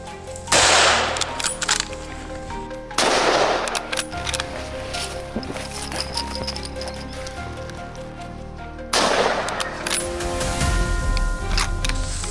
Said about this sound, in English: When they finally relaxed and lowered their heads, he took his shot.